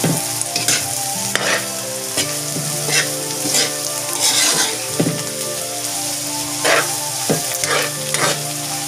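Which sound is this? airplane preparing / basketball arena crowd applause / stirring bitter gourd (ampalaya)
stirring bitter gourd (ampalaya)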